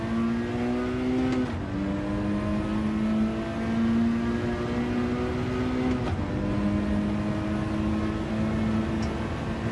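Single-make Peugeot race cars at Spa in a racing video game, with an engine holding a steady high drone near and loud, pitch stepping up through gear changes around the second and sixth seconds, continuous with no talk.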